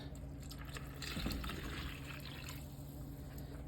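Four cups of milk are poured into a soup pot, giving a soft, faint liquid trickle and fill with light dripping, quiet and close with no talking.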